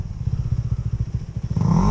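A motorcycle rides past with a rapid, pulsing engine chatter that swells into a louder rev near the end, close and unaccompanied by talk.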